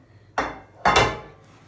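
Two hard knocks as a freshly baked loaf of bread is tapped out of a metal baking tray, each a sharp clatter with a short ring-off, half a second apart, close and clear with no talking.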